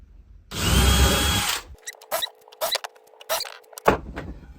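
A drill bores through wood guided by a Craig centering jig for a hat rack project: one loud sustained burst of drilling, then a series of short knocks and clatters of the tool and workpiece being handled.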